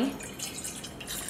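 A bowl of water trickles and splashes steadily into a cooking pot close by, a brief continuous pour with no talking.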